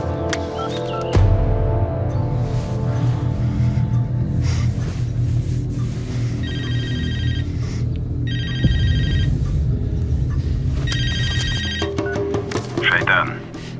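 A telephone rings in short repeated bursts in a dramatic film scene, sounding under and between people talking and other background noise at moderate loudness.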